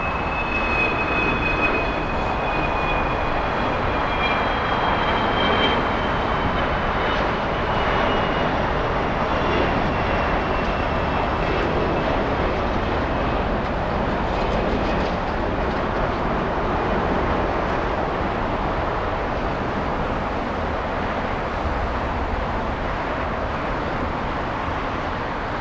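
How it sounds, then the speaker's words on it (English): An Alaska Boeing 747 taking off on runway 25 left at LAX gives a loud, continuous engine roar with a thin whine, holding steady for the whole stretch with no talking. "747 should be taken off on the closest runway to us, 25 left."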